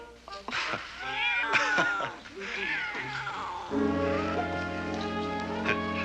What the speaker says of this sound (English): This cat is a thief.